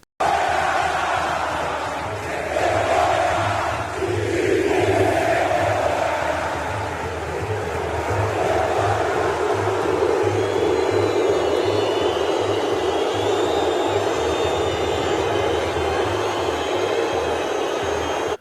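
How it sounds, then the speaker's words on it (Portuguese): A packed stadium crowd of Vasco supporters at São Januário jeers the team as it leaves the field, calling the players shameless. A loud, continuous roar of massed voices swells and persists at a distance throughout. "do time saindo e sendo chamado ali de sem vergonha pela torcida que lotou o estádio de São Januário"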